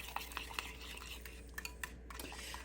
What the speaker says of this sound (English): you're just going to mix this up really well